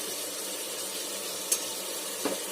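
Tomatoes with a half spoon of coriander powder fry in a pan, giving a steady close sizzle with a couple of brief stirring clicks.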